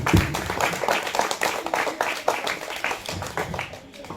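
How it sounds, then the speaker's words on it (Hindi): An audience at a school World Environment Day event claps warmly to welcome a young performer, a dense burst of many hands that stays lively and close, then slowly thins toward the end. "तो चलिए जोरदार तालियों के साथ स्वागत करते हैं"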